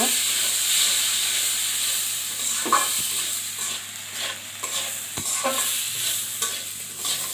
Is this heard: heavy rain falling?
no